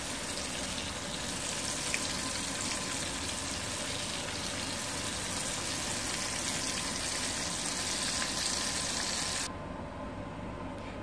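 Small ladyfish dropped into hot oil, a steady loud sizzle and crackle filling the whole stretch, close up with no talking, the hiss easing slightly near the end.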